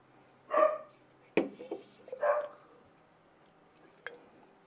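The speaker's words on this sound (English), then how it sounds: "Our fierce guard dogs are barking" Guard dogs bark indoors in a few separate bursts, a couple of sharp barks followed by a short pause and one last brief yelp, heard from a moderate distance against a quiet room.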